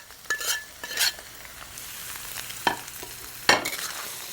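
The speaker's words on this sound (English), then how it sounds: "Gently saute it" Crumbled tofu curd with turmeric and salt is sautéed in a pan, a continuous sizzle punctuated by four bursts of spatula scraping and tossing, close and clear, without speech.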